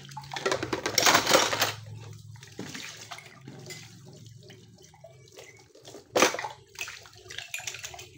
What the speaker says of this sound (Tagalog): humihina dito yung agas ng tubig sa gripo pagbukas doon sa CR